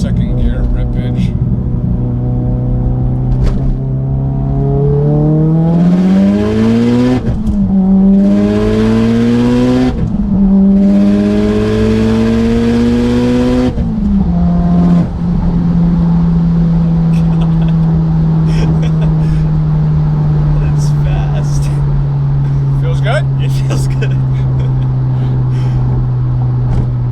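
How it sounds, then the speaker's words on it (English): A 500whp Mitsubishi Evo X accelerates hard in second gear, its engine note climbing loud and close through repeated rising pulls with gear shifts, then dropping to a steady droning cruise. "We'll do a little second gear rippage."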